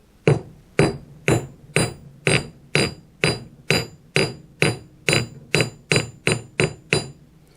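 A hammer rings on metal on an anvil while forging a bent bracelet, about fourteen sharp, resonant strikes in steady rhythm with short decaying rings between them, close and loud.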